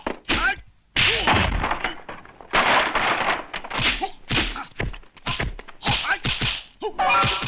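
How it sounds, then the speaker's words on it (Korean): Fight blows in a duel from a 1978 kung fu film about mantis-style boxing: a rapid series of loud, close thwacks and thuds in irregular bursts, with short pauses between flurries and no talk. "두 무림 고수의 최후의 대결이 시작됩니다."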